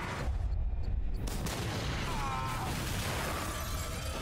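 Gunfire aimed at a Wendigo in a horror video game, dense bursts of shots and impacts blending into a loud continuous wash of game noise, close and busy.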